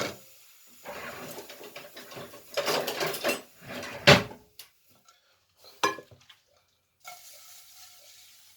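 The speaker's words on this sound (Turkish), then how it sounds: "Bu şekilde bir bütün halinde tereyağıyla karıştırın" Boiled manti being stirred with melted butter in a pan, producing scraping, clinking and soft wet mixing bursts in irregular spurts, with short quiet gaps between strokes.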